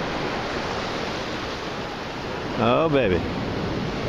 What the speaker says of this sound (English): Wave catches them.